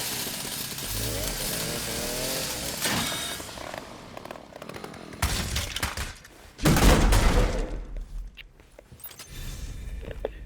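A chainsaw revving in the video game Resident Evil Requiem, a harsh buzzing roar that surges and drops in bursts, loudest toward the middle, with people talking over parts of it.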